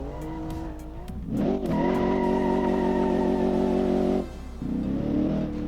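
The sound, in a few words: 1982 Viper concept car engine accelerating at speed, from a video game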